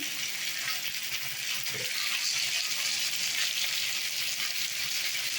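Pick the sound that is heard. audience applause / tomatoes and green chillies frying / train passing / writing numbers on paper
tomatoes and green chillies frying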